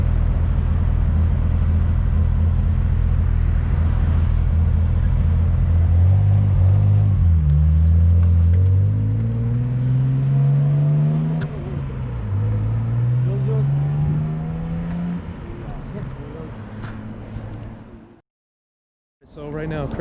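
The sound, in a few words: Nissan Skyline Hakosuka car accelerating on its first ride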